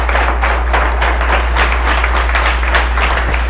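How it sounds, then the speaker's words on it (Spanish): A church congregation at a Spanish-language morning service claps together in a loud, roughly rhythmic pulse of bursts, a strong low electrical hum running steadily beneath the whole passage. "Un aplauso a Cristo en esta mañana."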